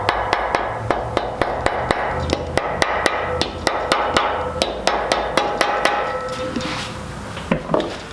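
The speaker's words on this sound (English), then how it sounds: "you can get a rubber mallet if you want to, so that you can get it on the alignment pins" A rubber mallet taps a head gasket onto the alignment pins of an IAG Magnum Firelock engine build, a long run of close, sharp, evenly spaced knocks at about three per second that pauses near the end.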